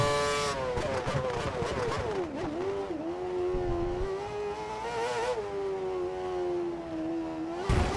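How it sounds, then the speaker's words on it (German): F1 race car engine from the PC racing game F1 2013 at Spa-Francorchamps, holding a loud, continuous high-pitched whine that rises and falls with rpm through the whole stretch, alone with no talk. "das hier ist das Stück, wo der Motor einfach nicht hochdreht."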